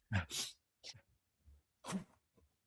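A single close sneeze, sharp and breathy, followed by a few softer breaths and small noises, with quiet gaps in between.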